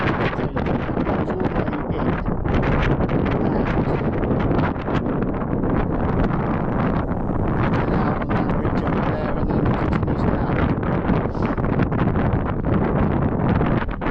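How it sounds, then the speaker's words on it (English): Cold wind roars steadily across the microphone during a Sunday motorbike ride along the Golden Horseshoe route, a loud continuous buffeting rush that masks everything else, with no talking. "you can feel the wind's really cold"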